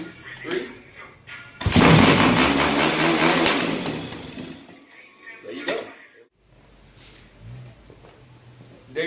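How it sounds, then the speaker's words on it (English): A Yamaha YZ250F dirt bike kick-started until the engine fires and roars loudly close by, then drops back and fades, with someone talking around it. "So that's how you kickstart the bike"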